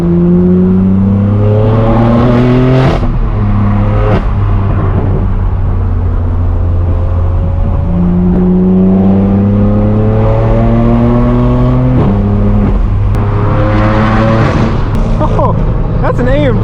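A straight-piped BMW M4 F82 blares from the cabin while driving to a car meet, its exhaust rising through gears in repeated loud pulls with sharp pops at each shift, while people talk over it.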